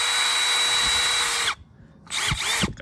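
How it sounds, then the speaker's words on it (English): A Milwaukee M12 subcompact drill on a low battery spins up at its lowest speed setting, running steadily with a whine for over a second, then cuts out briefly before a second, slightly rougher burst of spinning. "Let's check out the drill now. All right, first spin."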